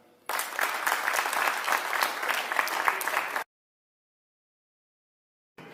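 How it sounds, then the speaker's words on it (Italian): Dense audience applause at an evening concert of Logudorese songs with guitar in Ozieri, many hands clapping loudly for about three seconds before cutting off abruptly into silence. "un grosso applauso e un buon lavoro per stasera a Gianluca Divona"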